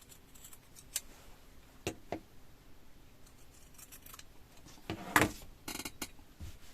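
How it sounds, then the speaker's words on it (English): Scissors snipping the corners of a sewn fabric basket before it is turned right side out: a few sparse, sharp clicks and snips spaced irregularly, with a denser cluster of cuts near the end, in a quiet room. "I'm going to cut the corners so that they're easy to"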